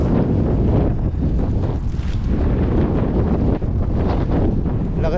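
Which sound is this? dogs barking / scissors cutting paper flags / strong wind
strong wind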